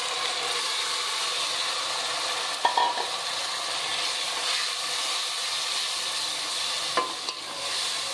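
Tomato puree hits fried garlic and ginger in a hot pan for spicy aloo ki katli, giving a steady broad sizzle with a couple of brief stirring scrapes, with no talking.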